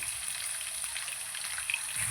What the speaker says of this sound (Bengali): এটা প্রায় দু থেকে তিন মিনিট ভালো করে তেলে ভেজে নেব